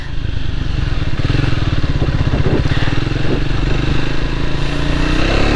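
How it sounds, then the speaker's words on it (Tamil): A Triumph Speed 400 motorcycle exhaust under throttle while riding, a loud continuous throbbing engine note with steady firing pulses throughout, close and unbroken. "நம்ம இந்த ஸ்பீடில் போகும்போதே நம்மளுக்கு ஒரு த்ராட்டில் கொடுக்கும்போது நல்ல ஒரு பிளாஸ்டிக் சவுண்டு நம்மளுக்கு நல்லாவே"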